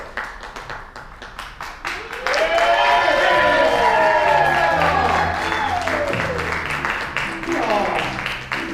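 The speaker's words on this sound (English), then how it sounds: "Thank you all so much for applauding me." A theatre crowd at a performing arts center claps and cheers for the evening's host, dense sustained applause with whoops that swells after a few opening claps and fades slightly toward the end.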